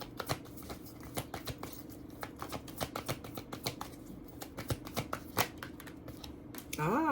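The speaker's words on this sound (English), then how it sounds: "Can I get one more card for Lori Harvey to close out her reading?" Tarot cards being shuffled at a celebrity reading, a steady run of crisp riffling flicks and slaps close by, with a brief vocal sound right at the end.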